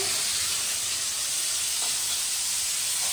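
Potato and cauliflower fry in a pan in a home kitchen, giving a steady, even sizzle and hiss that runs unbroken throughout with no talking.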